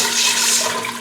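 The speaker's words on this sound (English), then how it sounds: "Now you add 6 cups of water." Water pouring steadily into a pot while making seafood chowder, a continuous rushing splash that stays loud and even from start to finish, with no talking.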